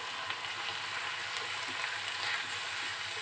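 Choy sum greens and tofu stir-frying in a pan, giving a steady, close hiss and crackle that runs unbroken through the whole stretch with no voices.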